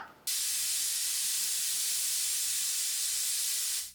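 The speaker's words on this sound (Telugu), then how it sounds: "మూడు విజిల్స్ వచ్చాయండి ఇప్పుడు ఇంకా స్టవ్ ఆపేస్తున్నాను" A pressure cooker whistles as it releases steam while Chennai-style pongal cooks on the stove, a loud steady hiss that starts abruptly and holds for several seconds before cutting off.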